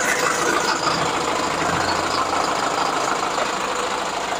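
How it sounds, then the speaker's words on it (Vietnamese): A JAC N680 truck with a German 170 HP diesel engine idles with the cab tilted open, giving a steady, loud mechanical rumble that runs unbroken from start to finish with no voices. "Em mới đề máy lên nha bác tài. Bác tài nghe được cái tiếng động cơ của nó không?"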